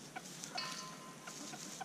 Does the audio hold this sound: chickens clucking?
yes